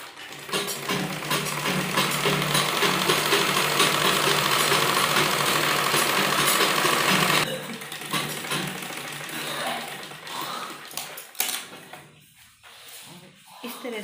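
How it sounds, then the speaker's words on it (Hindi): A sewing machine stitches pieces of a baby frock together, running steadily and close for about seven seconds before stopping, followed by quieter handling noises. "इस तरह से मिलाते हुए यहाँ पर भी हम सिलाई लगाएंगे।"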